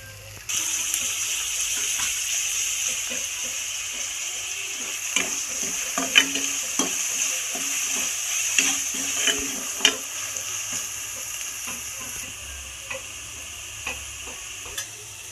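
Tomatoes sizzle steadily in a hot pan for a prawn curry, with a spoon scraping and knocking against the pan in irregular strokes, no one speaking.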